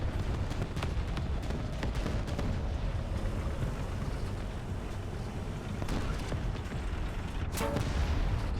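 Gunfire and explosions in the tank combat video game War Thunder, a dense, continuous rumble of booming shots and blasts with a sharper burst near the end, and no talking.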